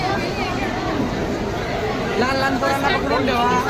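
Crowd chatter on a platform at Howrah railway station in Kolkata, a dense babble of many voices milling close by, with one nearer voice speaking over the busy hum.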